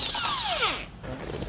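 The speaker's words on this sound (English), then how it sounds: "we're going to use our socket to remove all the nuts" Power tool fitted with a 21 millimeter socket spinning lug nuts off a trailer wheel hub, a loud whirring whine that sweeps downward in pitch as it spins down, then a quieter mechanical rattle.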